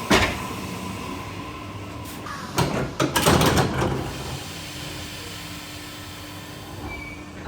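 A 55-year-old train rumbles steadily along the rails near Newcastle interchange, with clattering bursts and metallic squeals in the middle, heard from inside the carriage without talk.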